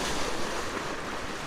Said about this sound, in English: there's a nice wave.